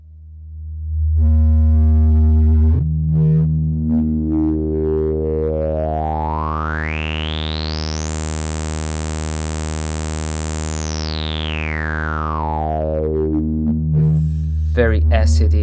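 Avalon Harmonics Puff stereo multimode filter module on a synth tone, a steady buzzy harmonic drone whose resonant peak sweeps slowly upward into a high whistling plateau, then glides back down, loud and alone.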